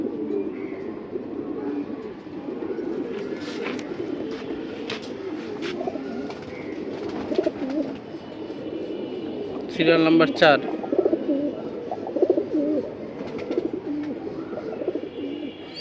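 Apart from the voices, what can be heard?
pigeons cooing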